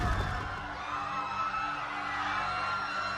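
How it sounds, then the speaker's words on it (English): Screams and crashing, collapsing rubble right after a huge sonic blast, a dense loud burst at the start that settles into a sustained roar of debris and cries. "There are screams and the sound of collapsing rubble."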